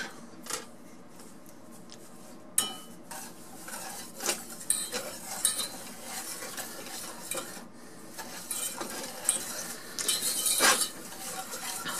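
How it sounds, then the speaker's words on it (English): Ingredients whisked in a bowl in a home kitchen, quiet irregular clinks and scraping taps of a utensil against the bowl, with a few louder knocks and a busier burst near the end. "I'm gonna give it some whisk"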